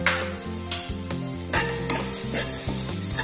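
Crushed spices with cumin are sautéed in a pan over low flame, with steady close sizzling and repeated quick stirring scrapes and taps throughout.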